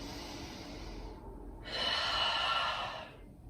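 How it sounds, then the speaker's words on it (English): A slow, deep breath during a yoga flow class: a long airy inhale followed by a stronger, louder exhale, close and alone with no talking. "Deep breath here."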